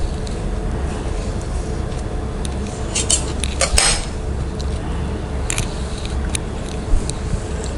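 Knife slicing a sheet of dried homemade mango pappad on a board, a few sharp clicking and scraping taps close by over a quiet background hum, with no one talking.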